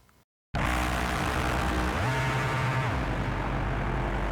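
A dense, loud drone from the Kontrast synthesizer by Dawesome kicks in after a short silence, a roaring sustained wash with a low tone that rises and falls midway.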